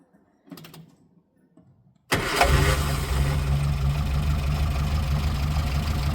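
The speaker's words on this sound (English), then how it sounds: "So we're going to start the engine." A Morris Minor engine fires after a couple of seconds of quiet faint fiddling, then settles straight into a loud steady idle with a low, even rumble close by.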